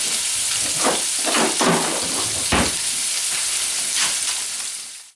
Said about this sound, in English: we're going to put our lobster in here. This is how we're going to cook our lobster